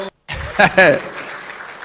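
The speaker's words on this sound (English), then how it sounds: "A round of applause for" Audience applause at a live national dialogue event, a burst of clapping with crowd noise swelling after a brief silence, fairly close and loud, with a voice briefly heard over it.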